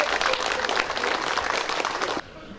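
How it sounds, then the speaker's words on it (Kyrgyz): A large crowd of residents at a public meeting in Tash-Kumyr claps loudly and steadily for about two seconds before the applause cuts off abruptly into quieter room noise. "Кол чаап позоңуздар туғандар."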